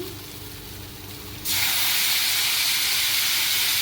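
Water poured into a hot pan of sautéed elephant foot yam curry sets off a sudden, loud, sustained sizzling hiss that continues steadily after the quieter frying before it.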